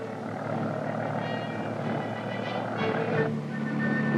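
A helicopter flying, its rotor and engine making a steady, moderately loud droning whir that holds without a break over a few seconds.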